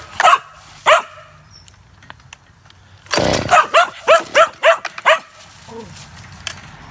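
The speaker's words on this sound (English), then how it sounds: "Did I tell you the dog doesn't like engines?" A dog barks sharply next to a Stihl 86C leaf blower being started, two early barks then a rapid run of six or seven loud close barks after a burst of engine noise, ending in a low growl.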